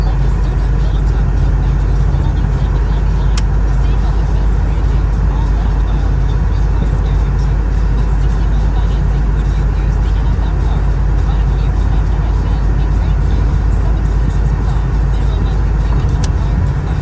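Cabin noise inside a Chevrolet Monte Carlo SS riding on a freeway: a loud, steady roar of engine, tires and wind with no break, constant throughout.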